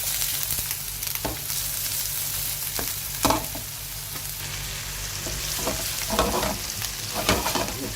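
Salted onions fry in a pan, giving a steady close sizzle that runs throughout, broken by a few sharp scrapes and taps from stirring, with no talking.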